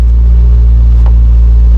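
A 2019 Nissan Sentra engine idles with a loud, steady low hum and rumble close to the microphone, unbroken for the whole short stretch.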